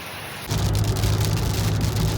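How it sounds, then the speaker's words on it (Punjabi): Rain begins falling over a rural paddy-farming area in Punjab, a steady loud hiss of drops that starts abruptly and then keeps on evenly with no voices. "ਇਹ ਇੱਥੋਂ ਮੀਂਹ ਚਾਲੂ ਹੋ ਜਾਂਦਾ"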